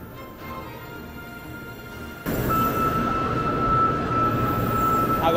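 Bullet train arriving at a station platform, a low rumble that swells abruptly into a louder rushing roar with a steady whine, close and sustained.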